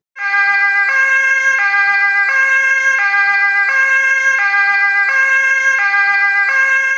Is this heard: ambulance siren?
yes